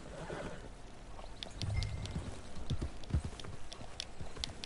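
Horse hooves clip-clop steadily at a moderate distance in Red Dead Redemption 2, a soft irregular beat with no voice over it.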